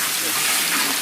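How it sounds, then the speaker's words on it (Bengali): Water splashes into a pot of country chicken curry cooking in a village kitchen, a short steady close pour with a hissing, gushing wash. "একটু জল দিয়ে দিলাম।"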